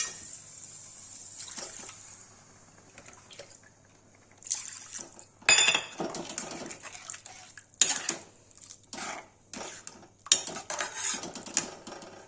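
Water is poured and splashes into a pan of egg curry, with irregular pouring bursts, metallic clinks and liquid sloshing, fairly close, with no voices.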